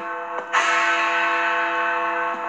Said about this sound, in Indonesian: Ini jamnya kencang banget suaranya ya.